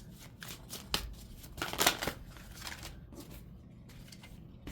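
Tarot cards are riffled and shuffled by hand at close range, giving a run of soft, crisp flutters and snaps with a louder burst near the middle and no one speaking.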